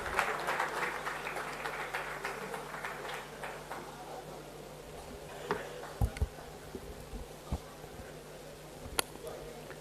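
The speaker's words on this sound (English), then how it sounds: "Let's have a big round of applause." An audience claps for a guest speaker, Mr. Pullela Gopichand, at a motivational session, the sound steady at first and then thinning to a few scattered claps as it fades.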